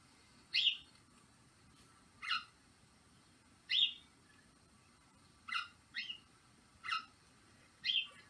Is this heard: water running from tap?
no